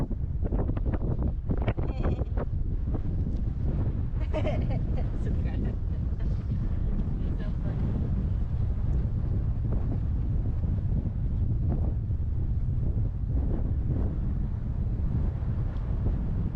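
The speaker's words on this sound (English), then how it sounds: "Kind of windy." Strong wind at Carlsbad Caverns National Park buffets the microphone throughout, a continuous low rumbling roar with occasional faint voices underneath.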